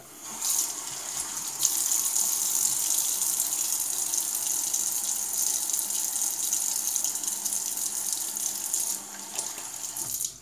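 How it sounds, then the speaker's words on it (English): Tap water runs steadily into a sink during a wet shave, a close, continuous gushing hiss that holds for nearly the whole stretch with no voices over it. "Just gonna put some water on it."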